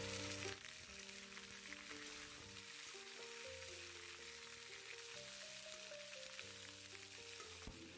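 Capsicum, potatoes and peas sizzle steadily in a pan as they are mixed, a constant bright frying hiss that carries on throughout with faint background music underneath.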